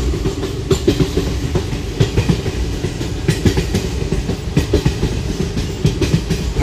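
Clickety-clack of an express passenger train running on rails, loud and close from inside the carriage, with steady rhythmic wheel beats over a continuous rumble and no talking.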